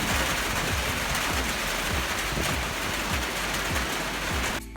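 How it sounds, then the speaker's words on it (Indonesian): Rain falls steadily, a loud, even, unbroken hiss of water with a low rumble underneath and no voices. "dan kemudian turun hujan."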